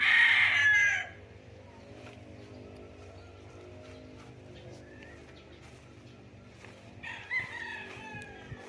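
Roosters crow from chicken coops at a farm house in Nagcarlan, Laguna, one loud crow at the start followed by quieter, more distant crowing and clucking over a low background hum.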